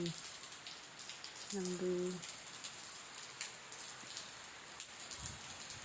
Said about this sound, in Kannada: ತುಂಬ ದಿವಸ ಆದಮೇಲೆ ಮಳೆ ಬರ್ತಾಯಿದೆ